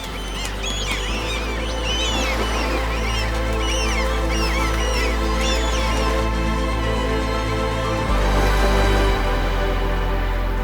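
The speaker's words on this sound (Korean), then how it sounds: "신선한 생선 냄새가 갈매기들의 울음소리와 뒤섞입니다." Seagulls crying over the fishing harbour at Skagen, Denmark, with colourful boats moored: many overlapping cries, loud and continuous, over a steady, dense background din.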